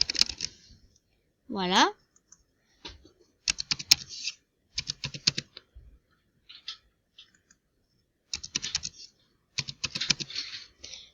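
Computer keyboard typing a username, bursts of quick close key clicks separated by pauses, with a brief spoken word in between.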